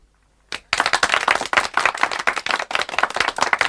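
Townspeople gathered in a town square break into enthusiastic applause after a brief silence, a dense, loud clatter of many hands that carries on steadily to the end.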